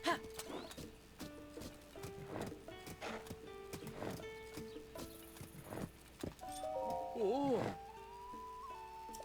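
Horse hooves clip-clop in a steady walking rhythm in The Legend of Zelda: Tears of the Kingdom, with a whinnying neigh near the end, heard up close over game music and someone talking.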